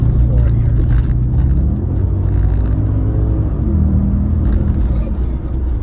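A 2003 Audi RS6 sedan engine accelerates with a loud, steady low rumble and rising revs throughout, with passing road noise and a brief higher whir.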